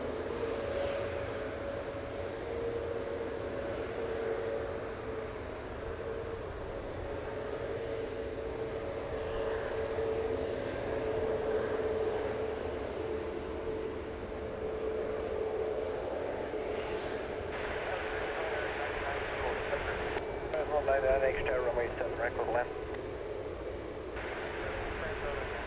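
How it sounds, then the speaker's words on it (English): A DC-3 airplane arriving on runway 7 right at Anchorage International Airport, its steady engine drone heard at a distance throughout, with a brief rise in noise late on. "We have a DC-3 arriving on 7 right."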